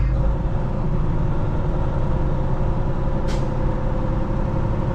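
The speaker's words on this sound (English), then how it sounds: "There's an interesting truck for you." A truck engine rumbles steadily and loudly close by, and a brief air-brake hiss cuts in near the end.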